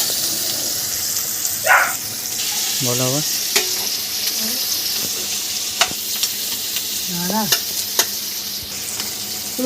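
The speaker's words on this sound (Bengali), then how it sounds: "রসুন আর পেঁয়াজটা একসঙ্গেই ভাজছি" Chopped garlic and onion frying together in oil for a home-style Bengali egg biryani. A steady close sizzle is broken by spoon scrapes and stirring, with a few brief squeaky tones.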